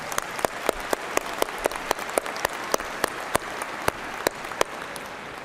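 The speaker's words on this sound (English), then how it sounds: "Let's give her another round of applause." Commencement crowd applauding at a college graduation ceremony, a sustained wash of clapping throughout, punctuated by sharp, regularly spaced cracks that stand out above the steady audience noise.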